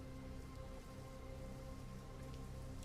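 Rain pours down as a steady, dense hiss of drops on surfaces, faint and unbroken, serving as ambience for a Dungeons & Dragons fantasy scene, with no voices.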